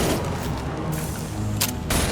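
Gunfire in the Mass Effect 2 video game, a dense burst of shots over a continuous noisy wash, with sharper bright cracks standing out near the end.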